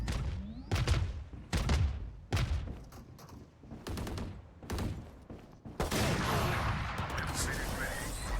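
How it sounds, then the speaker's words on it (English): In a video game, a missile barrage goes off: a rapid string of heavy, booming blasts, about seven or eight loud impacts, then a long rumbling roar of explosions, close and dominant. "All missiles away."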